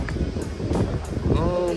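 Strong wind buffets the microphone in a steady roar on the deck of the cruise ship Harmony of the Seas, with rushing ocean water beneath and a faint voice briefly heard.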